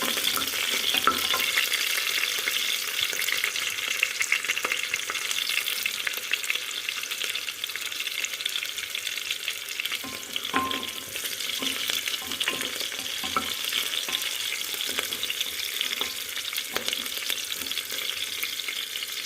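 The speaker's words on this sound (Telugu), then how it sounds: "బాగా వేపేసుకోండి." Ingredients for pesara pappu fry steadily in a pan, a continuous close sizzle with occasional stirring scrapes and no talk.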